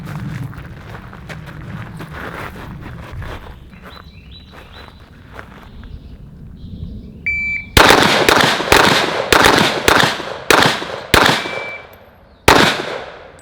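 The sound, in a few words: rapid Glock pistol shots fired with CAA Micro Roni stabilizer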